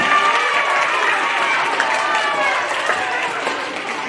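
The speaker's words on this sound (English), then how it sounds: "Big round of applause to Jack Sweeney Lamonti." A school assembly audience in an elementary school applauds steadily, a dense wash of clapping from a crowd of children and adults that tapers slightly toward the end.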